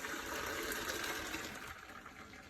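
Cooked Kraft macaroni is poured from the pot into a strainer, a steady near gush of water running for a couple of seconds with no talking.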